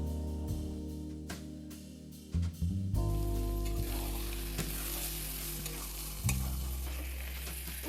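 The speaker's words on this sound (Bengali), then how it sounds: "এবার এটা আমি আরও 5 মিনিট ভালোভাবে কষিয়ে নিচ্ছি।" Taro leaves are sautéed with a hilsa fish head in a pan, with steady close sizzling and frying under repeated scraping stirs and occasional knocks of the utensil against the pan.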